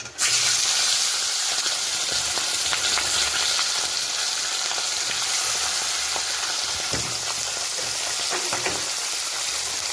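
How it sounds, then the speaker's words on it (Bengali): Fish frying in a hot, smoking wok in a Sundarbans village kitchen: a steady, loud sizzle and hiss runs throughout, with scattered small pops and spatters and no talking. "এবার দিয়ে দেবো মাছ ভাজার জন্য মাছটা আস্তে করে"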